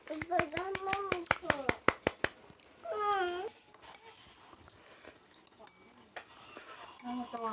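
A small child at home during a mealtime with her father claps her hands about nine times in a quick, even run, close by. Child babbling and vocal sounds follow, with faint clinks of dishes.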